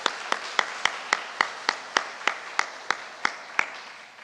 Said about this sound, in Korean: 다시 한번 뜨겁게 박수를 격려하겠습니다.